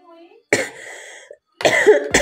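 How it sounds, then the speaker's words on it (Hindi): A woman coughs harshly several times at close range in a kitchen while cooking, in loud bursts separated by brief silences. "और बहुत ज़्यादा खांसी हो रही आज"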